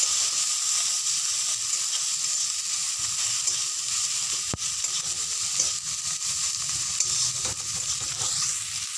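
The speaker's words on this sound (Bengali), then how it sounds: "শুকনো লঙ্কার গুঁড়ো স্বাদ মতো নুন স্বাদ মতো হলুদ পরিমাণ মতো দিয়ে ভালো করে কষে নেব" A soybean and chopped tomato mixture frying with dry chilli powder, salt and turmeric, giving a loud, continuous sizzle and hiss with scraping and stirring throughout.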